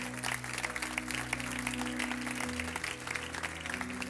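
A church congregation stands and applauds, a steady dense clapping that runs throughout over a low sustained hum of music or organ.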